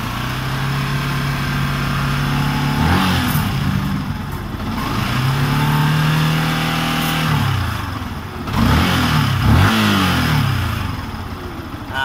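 A Yamaha R15 motorcycle with a charging-system fault idles, then is revved several times. Each rev rises in pitch and falls back, close by, with no talk over it.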